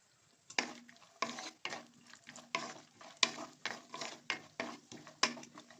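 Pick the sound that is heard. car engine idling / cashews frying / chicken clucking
cashews frying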